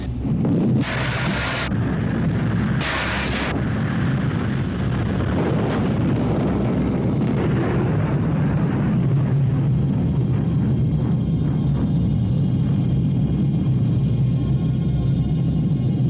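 Spacecraft explosive bolts firing in a 1981 sci-fi film, heard as two sharp high bursts early on followed by a long, loud rumbling roar with wind-like turbulence that continues to the end.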